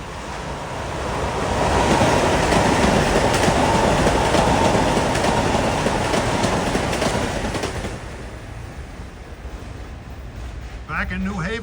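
A Metro-North train on the New Haven Line between Greenwich and Stamford passes close by, a broad loud roar that swells over a few seconds, holds, then fades.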